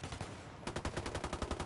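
Rapid bursts of gunfire from the video game Ghost War, a fast rhythmic string of sharp shots that turns into a steady, evenly spaced volley partway through, loud and close, with no voices.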